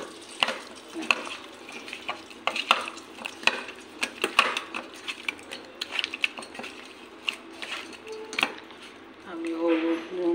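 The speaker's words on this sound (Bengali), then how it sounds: "চামচ দিয়ে তো মাখা যায় না, আমি হাত দিয়ে মেখে নেব" Pabda fish being mixed by hand with turmeric and salt in a bowl, giving irregular wet squelches and sharp clinks of the bowl, close and uneven, with faint background voices.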